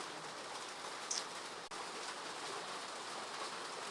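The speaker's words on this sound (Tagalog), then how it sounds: "Lakas ng ulan eh." Heavy rain pouring steadily, a dense unbroken hiss that stays loud and even throughout, heard from indoors with no voices.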